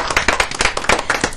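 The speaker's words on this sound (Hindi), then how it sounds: "आप सबके लिए जोरदार ताली होनी चाहिए" A small studio audience at an ETV Bihar game show claps quickly in a short, brisk burst of close, sharp handclaps, with no talk over it.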